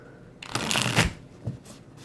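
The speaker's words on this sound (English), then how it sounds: "Then we're just going to shuffle." A deck of tarot cards is shuffled once in a quick riffling burst, close and crisp, with a softer tap of cards settling just after; no one speaks.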